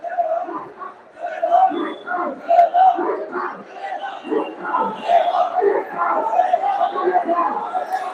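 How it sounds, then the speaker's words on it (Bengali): A crowd of Jamaat protest marchers chanting political slogans in unison on the street, a loud continuous rhythmic call-and-response of many voices, near and alone. "লিগ ধর জেলে পর এমন স্লোগানও কিন্তু দিচ্ছেন"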